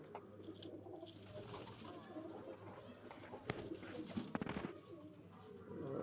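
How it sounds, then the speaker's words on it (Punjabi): Female pigeons coo softly in the background, low throaty murmurs blending together, with a person talking quietly over them and occasional rustling. "ਇਹ ਆਪਣੀਆਂ ਕਬੂਤਰੀਆਂ ਨੇ ਜਿਹੜੀਆਂ ਅਲੱਗ ਕੀਤੀਆਂ ਹੋਈਆਂ"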